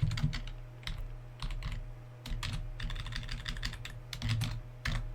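Steady typing on a computer keyboard while writing code, with close, rapid key clicks in uneven bursts and short pauses, heard alone without talk.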